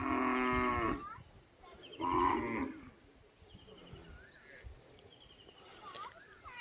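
Village cattle being herded along give two loud, close moos in quick succession, then quieter outdoor ambience with faint distant calls and rustling.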